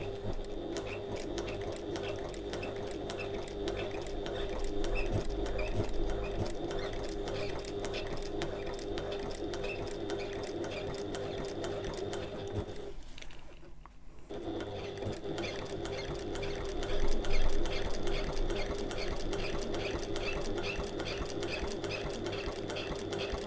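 A sewing machine stitches a line across a getaway bag, a steady close mechanical whirr of rapid needle strokes that pauses briefly midway, then resumes with the same even rhythm.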